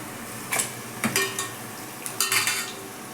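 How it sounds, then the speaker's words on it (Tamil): A kilo of chopped, washed chicken is sautéed in oil in a pan for chicken kurma. A soft background sizzle runs under several sharp clinks and scrapes of a utensil stirring against the pan. "நல்ல எண்ணெயில் ஒரு 2 நிமிஷம் நல்லா வதக்கி விட்டுணுங்க"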